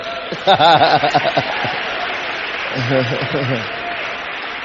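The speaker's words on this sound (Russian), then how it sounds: "Дайте аплодисменты кто-нибудь Богу." Congregation applause at a church service, steady broadband clapping from a crowd lasting throughout, with a voice talking over it in two short bursts.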